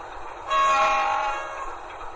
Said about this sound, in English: the way to get him going again is to blow the air horn.